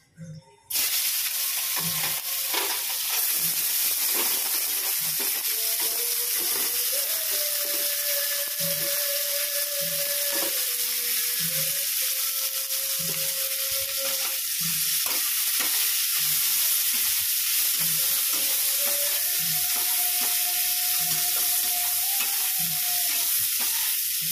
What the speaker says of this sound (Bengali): এই যে তেল গরম বসিয়েছি, উচ্ছে ভাজবো